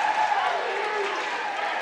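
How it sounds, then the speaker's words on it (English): Fans at a Mountain Heritage high school playoff basketball game cheer their team's defense. The crowd roar is sustained and broad, with voices blended into a continuous wash of noise. "Mountain Heritage fans cheering their team's defense."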